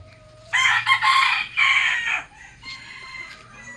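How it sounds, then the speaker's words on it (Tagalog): A rooster crows loudly and close by, a long drawn-out call, followed by fainter clucking and calls from other chickens and roosters. "Ayan naman yung aking mga alagang ibon."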